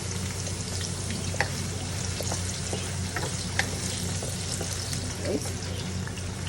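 Carrots fry briefly in a pan for chicken curry, giving a close, steady sizzle with occasional sharper crackles and pops, while a voice talks faintly underneath.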